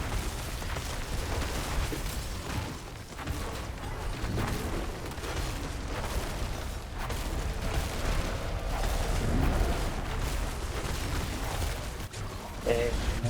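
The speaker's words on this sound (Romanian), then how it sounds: "Iar dă cu o explozie." Explosions in the video game Diablo 4 rumble and burst in a continuous dense wash of booms and crackles, with combat effects layered throughout.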